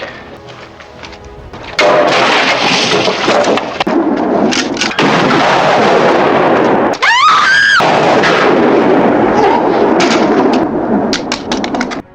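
Gunfire in a tense standoff scene from a revenge thriller, heard as loud sharp reports amid a dense, sustained roar of scored action sound, with a brief whistling sweep partway through.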